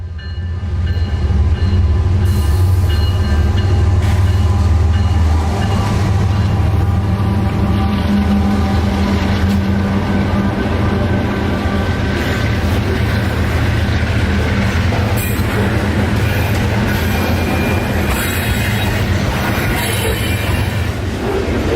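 A loaded CSX coal train rolls north through downtown Lakeland, a loud, steady roar of wheels and railcars that continues unbroken close by, with occasional sharper clanks and squeals.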